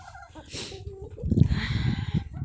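Chickens clucking and gobbling close by, a low busy chatter of birds with a few sharper calls rising over scratchy background noise.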